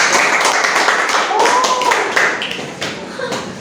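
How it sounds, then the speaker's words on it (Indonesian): Classroom applause from students, a steady patter of many hands clapping close by for a few seconds, fading slightly toward the end with a brief voice underneath. "Diberi aplaus dulu."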